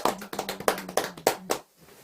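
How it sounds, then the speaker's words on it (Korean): Worshippers at a Buddhist New Year dharma service clap in unison, about seven distinct, evenly spaced claps, fairly soft and ending abruptly. "모두 박수 한번 쳐드릴까요?"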